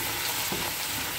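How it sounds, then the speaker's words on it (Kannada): Ground masala being stirred into vegetables softened in a frying pan, a steady close sizzle with a faint scrape of the spoon midway, no talking. "ಈಗ ಚೆನ್ನಾಗಿ ಒಮ್ಮೆ ಮಿಕ್ಸ್ ಮಾಡ್ಕೊಳ್ಳೋಣ."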